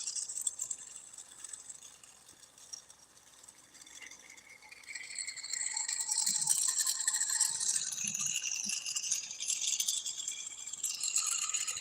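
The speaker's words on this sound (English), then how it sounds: "The crackling noise you hear is the actual torch." Glassworking torch flame burning while borosilicate glass is worked, a steady crackling hiss with rattling high texture that grows louder and denser partway through, with no voices.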